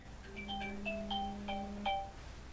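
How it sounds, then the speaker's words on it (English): A phone ringtone plays a short, faint electronic melody of repeated tonal beeps over a steady low tone, lasting a couple of seconds, alone with no talk. "My phone's ringing."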